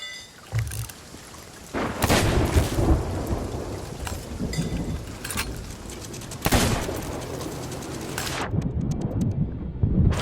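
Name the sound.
thunderstorm in Sea of Thieves video game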